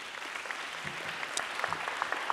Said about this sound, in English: Please give a round of applause for all of our panelists.